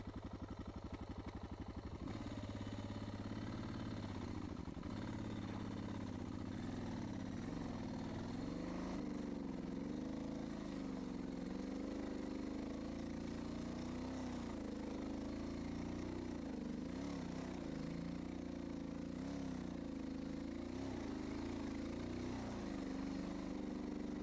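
Motorcycle engine labouring up a steep hill in first gear, a loud continuous drone close to the mic that rises and wavers in pitch as the throttle changes, with clatter and wind buffeting, no talking.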